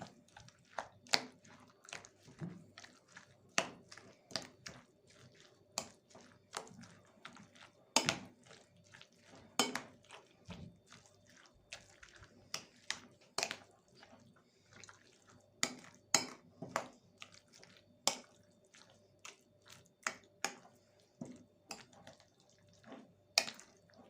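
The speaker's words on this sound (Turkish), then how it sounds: "Hemen kasemin içerisine ekliyorum. Ve iyice karıştırıyorum." Celery salad being stirred in a bowl after strained celery juice is added, with irregular close clinks and taps of a utensil against the bowl and faint liquid sounds, no talking.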